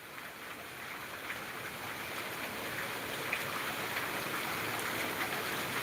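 Heavy rain pours steadily over the village of Kot Shamir in Bathinda district, Punjab, a dense, even hiss of downpour with no voices, holding constant and slightly swelling toward the end.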